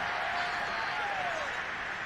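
Away-team stadium crowd in Madden NFL 22 keeps up a steady, dense roar of cheering and noise, filling the whole stretch at an even level with no clear breaks.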